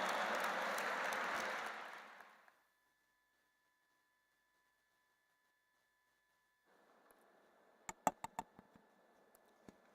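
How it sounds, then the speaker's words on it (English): A conference audience at an interfaith harmony event gives a round of applause, heard as a steady wash of clapping that fades out after a couple of seconds. Silence follows, then faint scattered ticks and knocks. "welcome with a big round of applause, Honorable Shri Satish Mahana ji."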